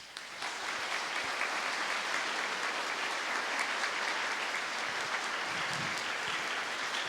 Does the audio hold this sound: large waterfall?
no